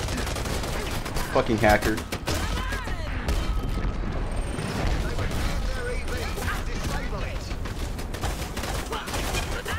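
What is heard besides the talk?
gunshots in video game Dirty Bomb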